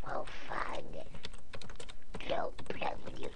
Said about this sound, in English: If you type in a comment.